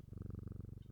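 A cat purrs as it is petted in the game Strange Antiquities, a soft, steady rhythmic rumble with quick, even pulses and no other sound, brief and close.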